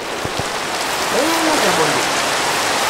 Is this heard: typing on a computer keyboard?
no